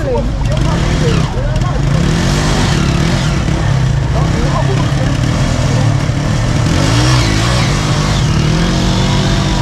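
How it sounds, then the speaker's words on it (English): Moto taxi motorcycles ride through busy Kigali traffic, with a dense, loud engine drone and revving under a constant roadway roar, while voices talk over it. "The motos zip through traffic and before you know it, you've arrived at your destination."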